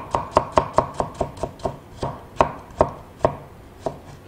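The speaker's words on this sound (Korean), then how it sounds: "채 썰어줍니다." A knife julienning a carrot on a cutting board gives about sixteen crisp, close chops in a quick, steady rhythm, alone with no talking.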